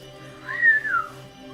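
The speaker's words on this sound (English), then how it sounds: "Somebody whistle." A single person whistles a short rising-then-falling note, clear and close, over a low steady background hum.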